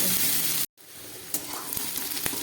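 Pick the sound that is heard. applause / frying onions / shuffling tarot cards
frying onions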